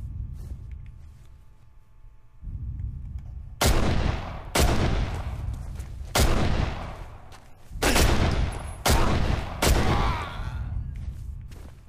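Heavy gunfire in the video game Condemned: Criminal Origins: a series of six loud, close blasts spaced roughly a second apart ring out over a low ambient hum, with no talking.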